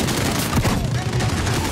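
Gunfire in the Call of Duty: Modern Warfare campaign comes as a loud, dense fusillade of rapid shots and booms that fill the whole moment, with a voice talking over the battle.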